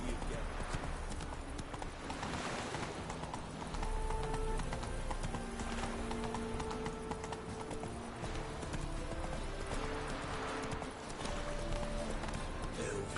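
Geralt's horse Roach gallops in The Witcher 3, its hooves clip-clopping in a steady, rapid rhythm throughout, with game music and ambience underneath.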